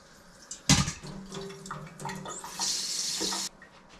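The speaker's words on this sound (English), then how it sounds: "I'll add some water to it." Water from a tap pours in a short splashing burst and then a steady hissing stream as it fills a cooking pot in a home kitchen, close by, with no voices.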